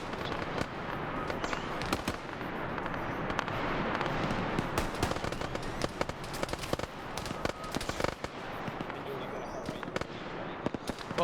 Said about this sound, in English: But with this barrage of high caliber fire